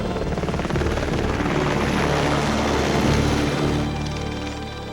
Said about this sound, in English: The helicopter couldn't land there, but it came very close to us.